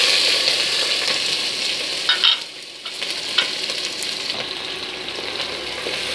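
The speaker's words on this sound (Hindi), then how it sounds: "तो यहाँ पे हमारा तेल गरम हो चुका है, हम इसमें प्याज डाल देते हैं।" Chopped onions frying in hot oil in a home kitchen, a steady broadband sizzle with a few stirring scrapes and a brief dip partway through; no voices.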